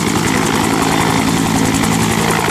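Toy military helicopter with spinning rotor blades, giving a steady, dense mechanical whir with a fast rhythmic pulsing that runs loud and unbroken throughout.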